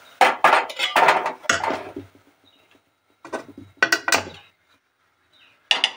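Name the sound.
placing a kadai (wok) on the gas stove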